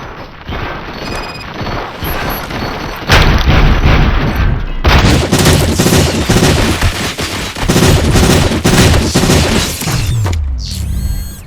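Gunfire in RoboCop: Rogue City, loud and sustained automatic bursts with heavy booming impacts and mechanical clatter, intensifying after a few seconds and continuing nearly nonstop before a sudden drop-off near the end.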